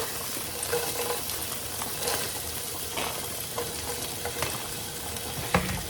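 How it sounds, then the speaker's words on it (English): Onion frying in a pan gives a steady, dense sizzle with occasional faint clinks and stirs, and no talk. "I'm going to add a little bit of onion."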